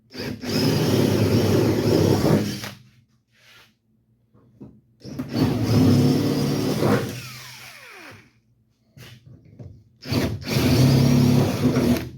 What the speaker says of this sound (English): now I can go ahead and make my holes the proper size